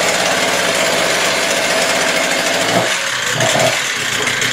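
A Stihl TS350 cut-off saw, just rebuilt, runs loud and steady at fast idle after a carburetor adjustment, its buzzing two-stroke drone continuous with a brief dip in pitch partway through.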